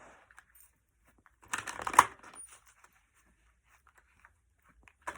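A deck of cards is riffled in one quick, crisp burst of fluttering snaps, with near silence before and after.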